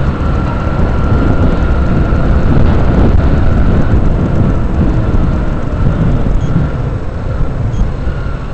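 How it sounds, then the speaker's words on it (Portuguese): Strong wind roaring across the microphone on a fast highway motorcycle ride on the Fernão Dias road, a constant loud rushing buffet with no break and no talk. "Nossa, tô com medo desse vento, hein."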